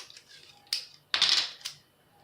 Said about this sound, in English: The first thing that I'm going to do is take off a piece of tape.